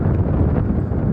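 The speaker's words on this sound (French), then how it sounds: "Ah bah oui, le vent ça crève" Strong storm wind in Lisbon buffets the microphone in a steady, loud, dense roar that fills the whole short stretch without letup, with no one speaking.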